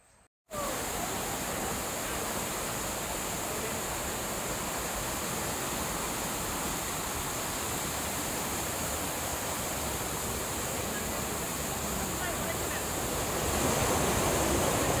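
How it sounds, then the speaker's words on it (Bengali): Steady, dense rush of falling water from a forest waterfall, loud and unbroken across the whole stretch after a brief quiet start, with no voices. "একটু সাউন্ডলেস করলেই আমি ঝর্ণার শব্দ শুনতে পাচ্ছি।"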